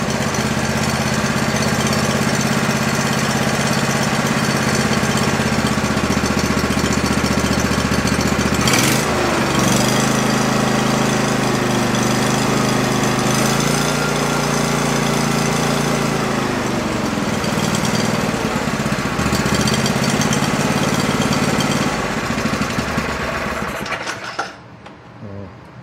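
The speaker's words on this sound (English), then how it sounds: "Let's see what happens if we go to rev it up." Old Go-For digger engine running steadily, then revving up with a rising, wavering pitch partway through before dropping back and cutting off near the end, loud and close with no talk.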